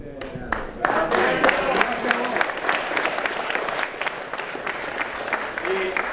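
Audience at an awards ceremony for a volunteer rescue association breaks into lively applause, close and loud with scattered sharp claps and a few voices calling out over the clapping.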